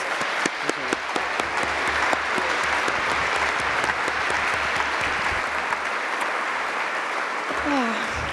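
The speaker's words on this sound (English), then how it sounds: "So can we give her a round of applause?" A live audience at a talk on taking responsibility gives a long, even round of applause, dense clapping from many people holding steady throughout, with faint voices mixed in underneath.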